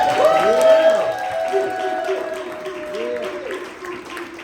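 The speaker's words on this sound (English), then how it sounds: "Let's give a round of applause." Audience applause at a live author event in El Paso, a sustained wash of clapping from a crowd, fairly loud and close, gradually easing off, with a voice speaking over it.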